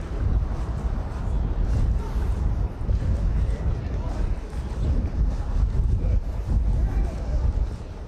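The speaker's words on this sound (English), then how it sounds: "Oh, it's getting windy." Strong wind buffets the microphone of a cyclist riding across Canada, a steady low roaring rush with gusty surges throughout, and a voice speaks over it.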